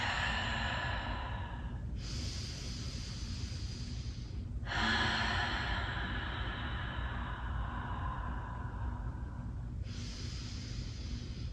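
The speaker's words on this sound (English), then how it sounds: "Taking nice deep breaths." Slow, deep breaths during a vinyasa yoga class: long, airy inhales and exhales in a steady rhythm, close and soft, with no talking.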